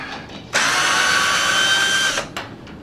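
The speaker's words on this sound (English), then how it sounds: "Now we'll flip it over and lose the screw because it's not long enough" A power drill backs a screw out of Ikea three-tier shelving during a computer desk build, giving one loud, close whine of about a second and a half, then a short second burst.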